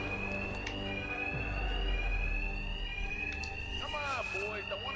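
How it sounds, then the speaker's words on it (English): A fire alarm rings steadily through a Batman: Arkham Knight game scene, a continuous high tone running the whole time beneath a voice and game effects. "My attacks will be covered by the noise of the alarm."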